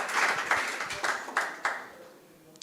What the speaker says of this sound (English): Yes, with an applause.